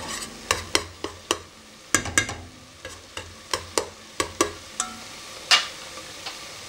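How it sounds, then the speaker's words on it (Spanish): Chicken pieces browning in oil in an uncovered pan, a faint steady sizzle broken by a dozen or so sharp clacks of a utensil stirring and scraping, with no talk. "de aquí un momentito pondremos ya el pollo y se tiene que dorar"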